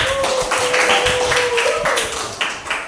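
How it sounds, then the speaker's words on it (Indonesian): Scattered clapping from a classroom of students, a few uneven claps over a tonal voice-like hum, brief and fairly close. "Oke, tepuk tangan."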